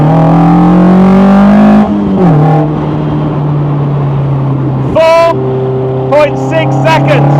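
A lightweight rear-wheel-drive Westfield Se NA R-T sports car accelerates hard from a standstill, its engine roaring loud and close with rising pitch, sharp drops at quick gear changes, and engine tone climbing again through each gear.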